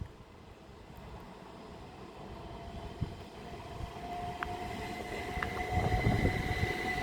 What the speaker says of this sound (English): leading the Hastings to Charing Cross service is 375627